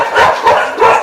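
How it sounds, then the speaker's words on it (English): Several dogs bark at a home, three loud, close barks in quick succession with no talk over them. "We got the dogs here."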